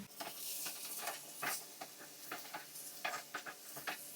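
Tomatoes with chili powder, turmeric and salt frying in a pan for chutney, a steady soft sizzle broken by repeated scraping stirs and spoon knocks, close and fairly quiet, with no voices.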